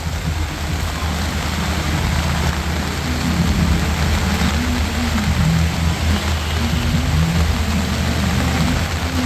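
Steady heavy rain falls along a road during a downpour, a dense unbroken hiss mixed with a low engine rumble throughout.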